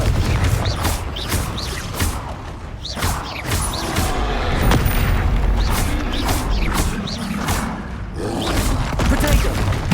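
Bombarda and Confringo spell explosions in Hogwarts Legacy burst in rapid succession, loud and dense booms and crashes layered with clattering impacts, while a voice calls out over the continuous battle noise.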